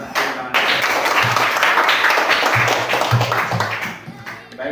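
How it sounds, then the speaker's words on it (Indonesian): A class of students clapping hands during a classroom lesson, a loud dense burst of applause lasting several seconds, with faint voices and chatter mixed in before it tapers off. "mari kita tepuk tangan"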